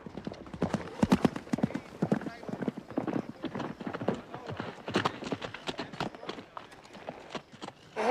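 Rhythmic clip-clop of horse hooves at a lively pace, close and fairly clear, continuing throughout with faint voices underneath.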